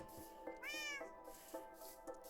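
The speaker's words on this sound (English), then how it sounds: "I've got a cat that has no name." Game cat meowing in a Minecraft-style world inside a stone-floored house, one clear rising-falling meow at mid-volume over steady background music and ambient hum, with faint soft clicks around it.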